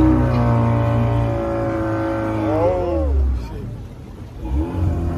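A motorboat engine drones steadily near the microphone on a boat trip in the Dominican Republic, its pitch rising and dipping as it revs, with a voice speaking briefly over it.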